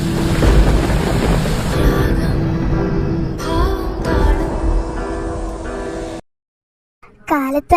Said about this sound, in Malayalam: കാലത്ത് തന്നെ നല്ല മഴയാണല്ലോ.